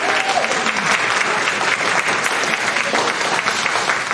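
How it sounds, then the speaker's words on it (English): A room of parishioners at a church soup and salad gathering gives Doug Eskew and his crew a round of applause, a dense, even clapping that holds steadily throughout with no talk over it. "let's give a round of applause to Doug Eskew and his crew"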